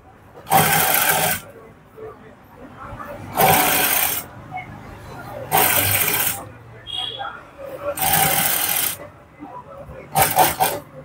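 Sewing machine stitching folded lace onto fabric, running in four loud bursts of a second or so each, separated by short pauses, with a final shorter run at the end.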